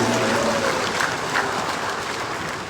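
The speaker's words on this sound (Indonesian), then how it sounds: "Tepuk tangan untuk semuanya" A large crowd at a NasDem party gathering applauds. The sound is a continuous, roaring wash of many hands that stays loud and even throughout, like heavy rain.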